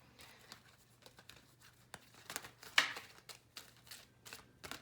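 Cards from an oracle deck are shuffled in an unusual way, giving soft papery riffles and crinkly flicks in irregular bursts, with a sharper snap near the middle, all quiet and close with no talking.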